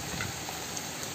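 Cumin seeds sizzle in hot oil while being stirred as a dal gosht dalcha is cooked, giving a steady, dense crackling hiss close by with no voices.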